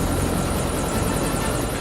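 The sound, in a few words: civil helicopter hovering over the forest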